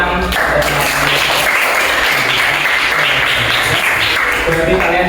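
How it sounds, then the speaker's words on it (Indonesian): A class of students applauds during a lesson, a dense burst of clapping filling the room with a low hum of music or tone beneath, steady for several seconds before easing slightly. "Berikan tepuk tangan."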